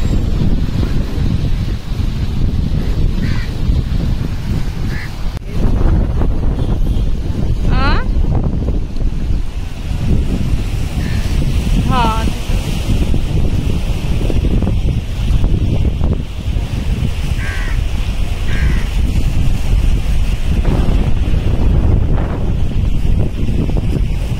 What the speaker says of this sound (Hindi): लाटा वाढायला लागल्यात आता।